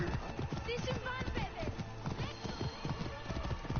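Rhythmic clip-clop of horse hooves in the video game Assassin's Creed Origins, steady and close, with a brief whinny and a game soundtrack layered underneath.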